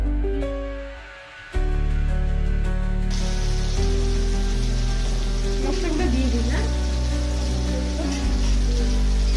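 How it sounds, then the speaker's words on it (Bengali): Chopped tomatoes frying in a pan for a potato and paneer curry, a steady loud sizzle throughout, with a soft start before the hiss jumps up and holds continuous under a low hum. "টমেটোগুলো ভালো করে ভেজে নেব যাতে এর কাঁচা গন্ধটা চলে যায়"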